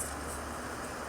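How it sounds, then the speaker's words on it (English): A Be Quiet Pure Wings 2 80mm computer fan rated at 1900 RPM whirs at full speed, giving a steady, even broadband rush of air noise that holds constant throughout with no talking. "It's that whirring noise in the back that you can hear."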